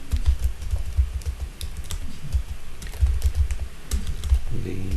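Fingers type steadily on a nearby computer keyboard that has a faulty E key, producing brisk, irregular clusters of loud key clacks throughout.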